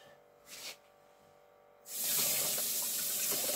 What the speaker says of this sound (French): Coup de lavage. Lavez vos légumes quand même avant.